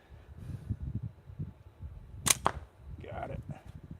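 A slingshot shot strikes a small metal target outdoors with a sharp crack and brief ring, a single hit standing out amid low rumbling background noise and distant murmur.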